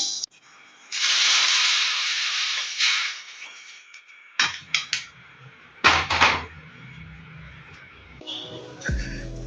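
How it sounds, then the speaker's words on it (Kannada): Cinnamon sticks dry-roasting in a pan for Coorg black masala: a brief hiss, then intermittent loud scrapes and clatters of sticks and spoon against the metal pan, separated by quiet gaps. "ನೂರೈವತ್ತು ಗ್ರಾಮ್ ಚಕ್ಕೆಯನ್ನು ಹಾಕಿ ಹುರ್ಕೊಳ್ತಾ ಇದ್ದೀನಿ"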